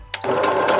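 A sewing machine stitches elastic onto a fabric pot cover, a short close burst of rapid mechanical whirring with needle clatter starting after a brief click, no talk.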